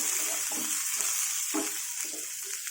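Ginger and green chillies fry in hot oil in a pan, a bright continuous hiss with several low scraping stirs of a spoon close by, no voices.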